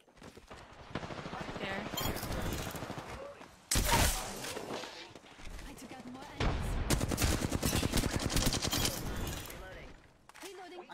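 Rapid bursts of automatic gunfire from the video game Apex Legends, loud and close, with repeated sharp shots in clusters and short pauses between volleys.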